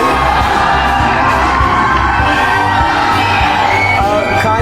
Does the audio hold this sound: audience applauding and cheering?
yes